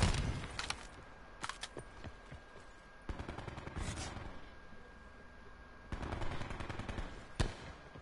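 Automatic gunfire from the video game Call of Duty Black Ops 4 rattles in several short bursts, faint and somewhat distant, separated by brief quieter gaps.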